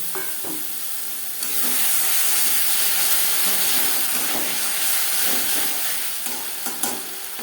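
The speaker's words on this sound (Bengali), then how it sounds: "পেঁয়াজ টমেটোর সাথে মশলা বেশ ভালো করে মিক্স করে দেবো কাঁচা গন্ধ যা পর্যন্ত নাড়াচাড়া করে দেবো" A masala of onion and tomato is stirred in a hot pan for puti fish curry, giving a loud, continuous sizzle and steamy hiss with scraping stirs and a few taps near the end.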